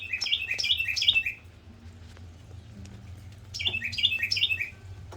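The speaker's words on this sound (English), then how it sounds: "I wonder what kind of bird that was" Outdoors on a homestead, a bird lets out two bursts of quick, bright chirping calls, the second after a short pause, over a low background hum.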